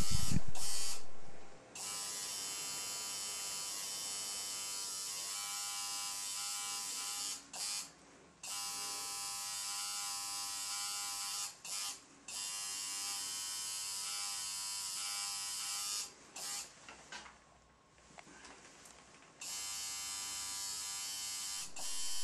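A tattoo machine buzzes steadily and close during color tattoo shading, a continuous electric drone that cuts off briefly several times and resumes.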